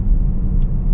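A 2014 Porsche Cayenne GTS engine rumbles steadily and up close during a downshift, a deep continuous drone that holds even throughout the brief moment.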